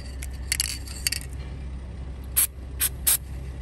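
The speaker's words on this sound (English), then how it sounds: "I need to start just occasionally spraying some CorrosionX down in there" Short bursts of CorrosionX spray aimed into a boat trailer electrical connector: a few quick hissing puffs over a steady low outdoor rumble, with faint clinks early on and three sharper spray bursts near the end.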